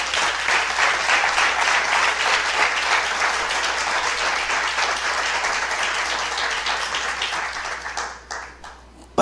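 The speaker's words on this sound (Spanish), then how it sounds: "Dale un aplauso al Señor." Church congregation applauding during a sermon, sustained dense clapping that holds steady and then thins out and fades near the end, with no voices over it.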